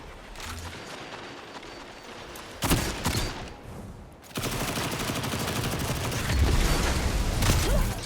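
Shotgun blasts from Destiny 2's Heritage raid ring out close and heavy, a couple of sharp booms followed by sustained rapid gunfire and combat noise filling the rest.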